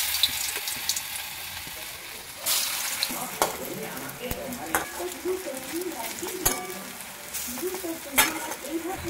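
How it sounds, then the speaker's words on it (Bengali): Fritters of pumpkin greens and red lentils frying in hot oil sizzle and crackle, punctuated by occasional utensil scrapes and clinks and a short burst of louder spitting near the start; a voice murmurs faintly in the background. "এবার বড়াটা ভাজবো। গড়ে গড়ে নিয়েছি এরকম করে, তেল গরম হয়ে গেছে।"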